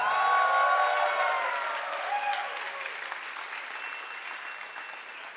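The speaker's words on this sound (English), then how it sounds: "And give a warm applause to Achim for controlling the Zeitschwein." A crowd at a science slam applauds warmly, loud dense clapping with a few faint cheers at the start that gradually eases and thins out over several seconds.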